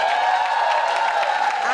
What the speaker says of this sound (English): so bigger applause.